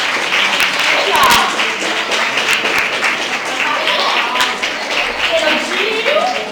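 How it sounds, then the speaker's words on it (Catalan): A large audience gives a sustained, loud ovation at a piano event, dense clapping filling the whole stretch evenly with voices mixed in. "que totes les persones, per favor, s'apunxen i que les donem aquest gran aplaudiment i ovació"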